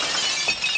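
A sheet of paper torn through as a prop effect mimicking breaking glass, a brief bright shattering crash with tinkling edges, loud and alone.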